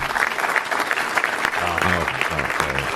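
Sustained applause from a political rally audience fills the clip, loud and steady, with a voice cutting in over the clapping near the end.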